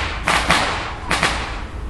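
Nearby fireworks going off outdoors in a garden, giving two pairs of sharp, close bangs in quick succession with no talking.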